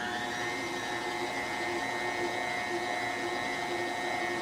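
An electric stand mixer kneads dinner roll dough at medium speed, a constant close motor whine with a steady mechanical hum and no breaks.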